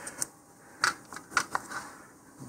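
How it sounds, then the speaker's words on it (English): Masking tape being pulled and pressed over one end of a liner tube for an Aerotech RMS 24/40 reloadable rocket motor, heard as a few short, sharp crackling rips and taps separated by quiet pauses, close by. "we're going to have to put some masking tape over"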